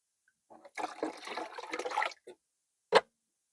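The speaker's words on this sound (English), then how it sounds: "So I'm just skimming off the water." Water sloshes and splashes as it is skimmed off the top of a bucket of homemade garden fertilizer, a burst of close pouring noise followed by a short pause and one sharp final splash.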